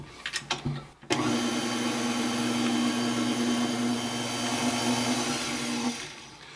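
Electric hand mixer whirring steadily through pumpkin bread batter after a few short bumps and clicks, a loud continuous motor drone with a sustained hum that runs for about five seconds, then cuts off.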